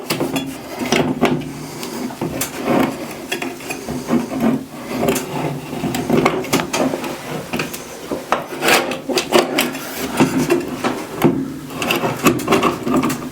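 A bathroom light fixture scrapes and clunks into its mounting slots, an uneven run of close rubbing, knocking and clicking with short pauses and no talk.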